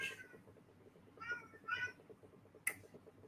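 A cat gives a few short, faint meows in quick succession over a low background hum, followed by one sharp tick.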